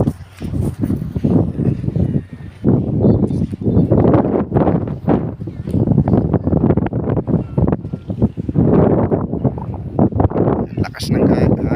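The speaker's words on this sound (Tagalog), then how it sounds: "Lakas ng hangin, guys. Ang lakas ng hangin." Strong wind buffeting the microphone at a seaside beach, loud gusty roaring that surges and fades in waves, with people talking underneath.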